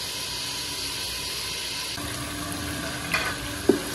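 Chicken pieces frying with ginger garlic paste and salt for chicken karahi, giving a steady close sizzle throughout with a couple of stirring clanks near the end.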